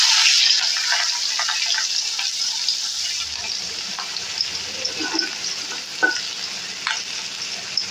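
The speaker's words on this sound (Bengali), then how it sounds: "এর মধ্যে আমি দিয়ে দিব পেঁয়াজ কুচি আর লঙ্কা কুচি" Chopped onion and green chilli drop into hot oil with a little turmeric for a vegetable Maggi noodle dish, a bright, close hiss that eases slightly, with occasional stirring knocks.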